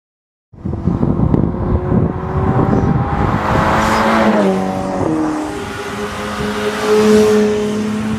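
Ferrari California T twin-turbo engine of nearly 600 horsepower accelerating hard, a loud rising engine drone climbing through gear changes with wind noise, heard close from inside the car.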